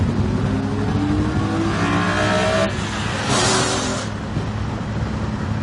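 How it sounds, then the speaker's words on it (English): BMW E46 M3 S54 engine revving and pulling hard with a raspy carbon-airbox intake roar, pitch climbing, then a brief shift and another surge before settling. "when you hear an S54 coming down the street, it's like, it's just ripping"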